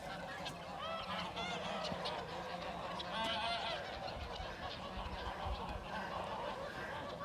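Geese on a farm field where they have eaten the grass down honk in a fairly steady, moderately distant stream of overlapping calls over a low background rumble.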